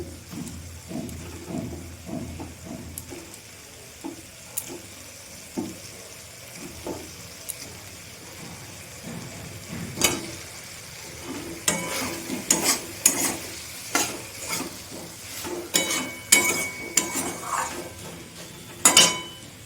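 Fried potato and cauliflower pieces being stirred into spiced oil in a pan, a utensil scraping and clinking in repeated bursts over a steady low sizzle, close and moderately loud.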